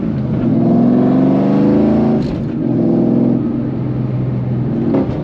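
A 2003 Ford SVT Cobra engine revs hard through a T56 Magnum manual transmission, loud rising pulls broken by a quick dip at each gear shift, heard close from inside the car.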